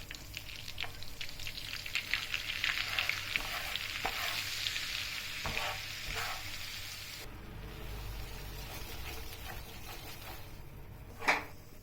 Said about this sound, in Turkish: Tereyağımız ve sıvı yağımız iyice kızdı. Unumuzu ekliyoruz.